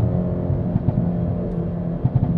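A 2019 Hyundai i30 N Performance Fastback with a 275 hp engine revs through its exhaust, giving a steady, loud low drone with a few short throttle bursts rising out of the rumble.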